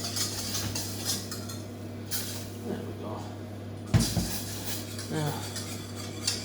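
A spoon stirs milk into a roux in a pan for a fennel and potato gratin, with soft scraping and occasional clinks of utensil against metal under a steady kitchen hum while someone talks.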